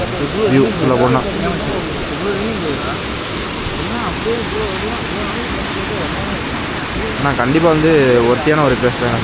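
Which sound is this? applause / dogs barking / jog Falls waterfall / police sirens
jog Falls waterfall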